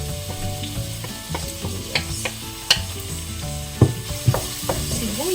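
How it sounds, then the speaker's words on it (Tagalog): Chopped onions sizzle in hot oil in a home kitchen, with a bright crackle under repeated clacks and scrapes of a utensil against the pan, close and fairly loud, no one speaking. "Lagay ko na po yung sibuyas."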